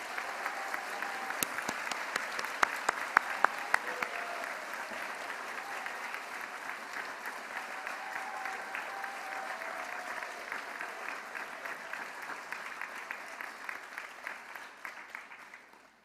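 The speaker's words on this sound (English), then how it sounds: "one more round of applause for all of the graduates is in order" A large commencement crowd at UCLA applauds the graduates, a long wash of dense clapping with a few sharp close claps early on, gradually thinning and fading toward the end.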